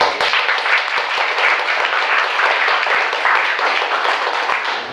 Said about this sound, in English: I think that the play and Leo's work deserves a special round of applause.